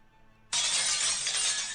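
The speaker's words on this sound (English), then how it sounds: "shortly after came the shattering of glass from one of the bedroom windows" Glass bedroom window shattering in London Detective Mysteria, a sudden loud crash after a quiet moment that trails into a sustained bright tinkle of falling shards.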